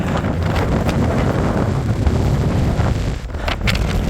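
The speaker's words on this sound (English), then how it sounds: "As you can probably tell, the wind's picked up considerably." Strong wind buffets the microphone high on a Lake District mountain, a loud, steady roaring rumble that fills the clip without any voices.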